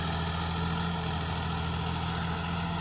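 A John Deere 5405 CRDI tractor's diesel engine idles with a steady, unbroken low rumble and hum, close and loud, with no voices over it.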